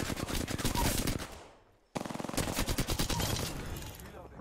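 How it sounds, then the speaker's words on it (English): Rapid bursts of automatic gunfire in an Apex Legends gunfight, loud and dense with a brief drop-off near the middle before another sustained volley of shots. "That gunfight, oh my god."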